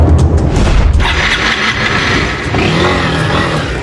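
A stolen motorcycle's engine catches after several tries and revs loudly up close, rough and throaty, with a thump near the start.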